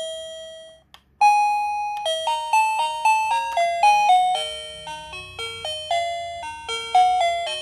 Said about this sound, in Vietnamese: mình sẽ hướng dẫn chuyển từ tiếng nãy giờ là tiếng chuông ha